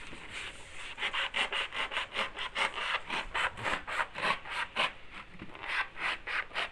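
Scissors or a blade cut a hole into a thick papier-mâché Easter egg made of at least five layers of toilet paper, giving a steady run of about twenty rhythmic rasping, scraping strokes close up with no talk.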